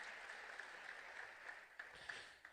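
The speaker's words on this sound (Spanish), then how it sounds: "Démosle un fuerte aplauso al Señor." A church congregation applauds during a Spanish-language worship service, a faint, steady wash of clapping with a few sharper claps poking through, heard from a distance.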